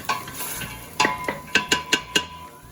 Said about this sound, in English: So first of all, my peas are going in. Give those a little stir.